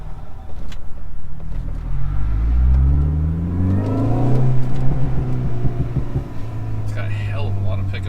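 A 2005 Mini Cooper S R53, long left sitting with its check engine light on, accelerates hard while being driven. Its engine note climbs steadily in pitch, loud and close, then settles into a steady drone.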